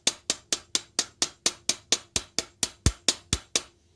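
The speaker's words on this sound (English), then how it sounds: "I will give it another light hammering" Light hammer blows on a silver square pour land in a steady run of about fifteen sharp, evenly spaced metallic taps, close and clear, with nothing else heard.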